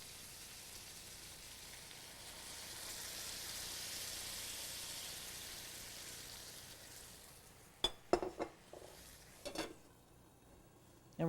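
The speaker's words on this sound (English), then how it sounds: "Now we're going to add some stock to this." Stock poured into a hot pan of braising fennel, a steady hissing sizzle swelling and fading, followed by a few clinks and scrapes of utensils near the end.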